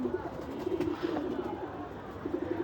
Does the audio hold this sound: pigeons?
yes